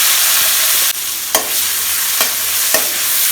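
Half a chopped large onion sautéing in hot oil with curry leaves for a village-style crab curry, a steady loud sizzle broken by a few sharp stirring scrapes of the spoon against the pan.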